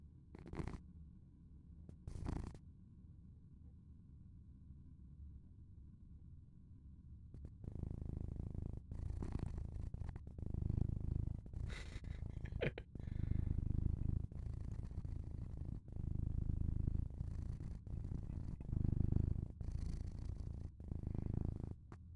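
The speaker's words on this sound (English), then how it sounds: "Kind of hear her purring." A cat purrs close to the microphone, a low rhythmic rumble that runs steadily after a few seconds of quiet and brief rustling.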